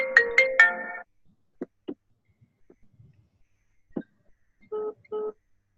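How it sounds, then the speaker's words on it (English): A mobile phone ringtone plays a short bright melodic burst, then a few faint clicks and two brief tonal beeps near the end, heard alone in a quiet room. "there goes my phone"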